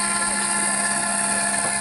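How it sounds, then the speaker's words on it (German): A scale model NH90 helicopter flies at a model helicopter meeting, its steady high turbine whine and rotor drone continuous and fairly loud throughout, with no talk. "Also das ist der Hubschrauber, der auch von der Bundeswehr beschafft wurde oder beschafft wird"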